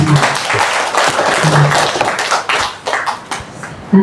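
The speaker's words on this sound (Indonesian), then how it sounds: "tepuk tangan dulu teman-teman" Applause from a group at a retirement farewell gathering, a dense burst of hand clapping that carries on steadily for several seconds, loud and close.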